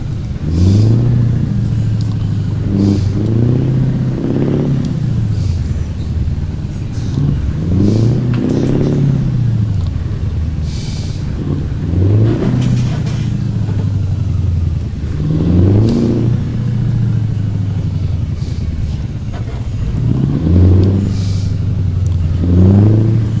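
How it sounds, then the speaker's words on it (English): A 1988 Kenworth K100 truck engine in American Truck Simulator revs repeatedly, rising and falling in loud, close cycles with a heavy clattering rattle, no talking over it. "American Truck Simulator needs to work on that noise."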